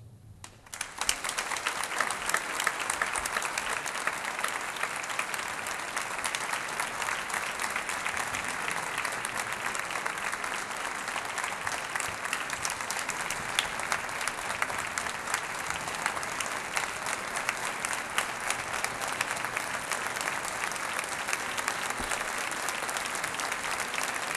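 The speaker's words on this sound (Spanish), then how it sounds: "expresar nuestro afecto con un cariñoso aplauso" Warm applause from an Easter Week proclamation audience welcoming the bishop, a dense, steady roar of clapping that sustains evenly for the whole stretch with no voices over it.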